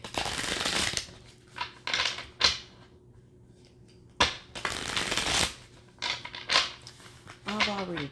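Playing cards being shuffled and dealt for a card reading, crisp riffling bursts and soft slaps repeating through the clip with pauses between them, close by, with brief talk toward the end.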